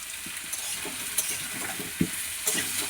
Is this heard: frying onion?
yes